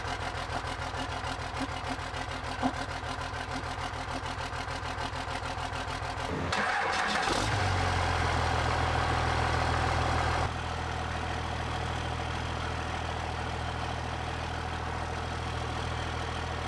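A reassembled truck engine, once missing an injector, cranking with a rapid rhythmic churn, then catching and settling into a steady rumbling idle that carries on to the end, close and moderately loud.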